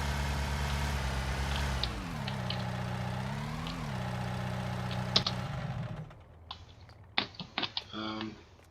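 A tractor engine idles in Farming Simulator 19 with a low, steady rumble that dips in pitch briefly, then cuts off, leaving scattered sharp clicks and knocks.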